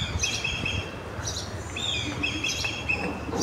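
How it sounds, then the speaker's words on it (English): Wild birds chirping outdoors in a Kenyan setting, a few short clear tweets and whistled calls repeating at moderate distance over a steady background hum. "can you hear the birds?"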